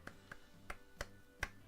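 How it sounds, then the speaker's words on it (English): Quiet hand clapping, five soft, spaced claps in a slow, uneven rhythm, close but faint against a near-silent background. "That deserves a round of applause. I'm not clapping too loudly because I don't want to deafen you"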